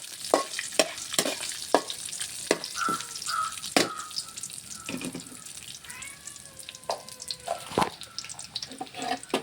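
Urad dal, lentils and curry leaves fry in a pan with a soft sizzle while a spoon stirs close by, giving sharp, irregular scraping clicks throughout, with no talking.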